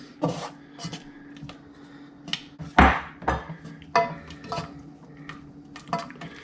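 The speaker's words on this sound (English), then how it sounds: "Just gonna stir everything up." A spoon scrapes and knocks around a pot as flour is worked into pulled pork macaroni and cheese, with irregular rubbing strokes and one heavier clunk, close up with no talking.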